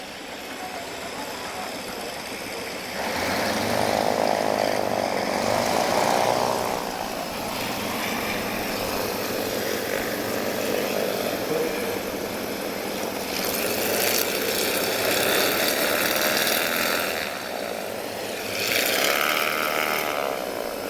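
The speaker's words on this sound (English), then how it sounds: "That's quite a sound from these M14 engines." Several M14 radial aircraft engines run loud and steady at an airshow, a continuous propeller drone that swells after a few seconds and surges higher twice, with no talking.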